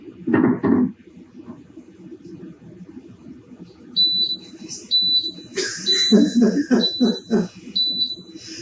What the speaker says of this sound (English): It's beeping because it doesn't sense the pan.